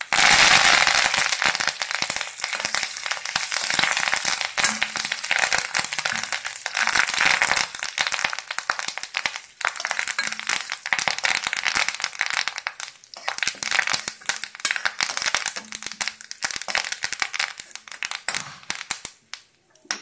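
Curry leaves and cumin seeds with black pepper sputtering in a hot pan for pepper rice, a dense continuous crackle and popping of frying spices that holds steady, loud and close, throughout.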